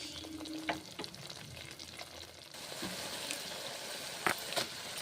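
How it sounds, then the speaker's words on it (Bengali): Spices and water sauté in a pan for a radish and onion greens dish, giving a soft, steady sizzle with intermittent scraping stirs and a few sharp clicks of a spatula, close and fairly quiet. "জল আর মশলা দিলাম মিশিয়ে এক মিনিট কষে নিচ্ছি"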